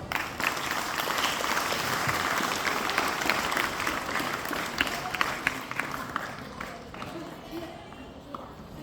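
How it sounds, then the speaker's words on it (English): An audience at a youth parliament event applauds in a thick, continuous wash of clapping, with a few sharper individual claps standing out and some voices mixed in, thinning out toward the end. "with a big round of applause"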